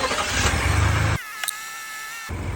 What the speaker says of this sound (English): I'm going to start up the Bronco